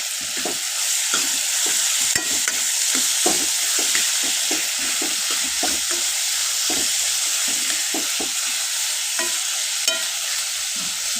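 Tomato pieces being stirred into ivy gourd curry in a kadai, a spoon scraping and clacking in quick irregular strokes over a steady, loud hiss of frying oil, with no voices.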